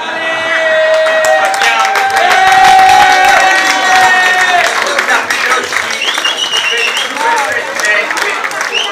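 Applause for Silvio at a ski club event, a dense crowd of clapping hands building and holding steady, with cheers and a few whoops mixed in and voices talking over it.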